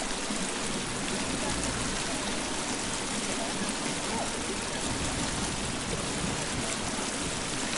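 Loud, steady rushing water flows continuously in the video game The Forest, a dense broadband roar like a stream or waterfall with no breaks.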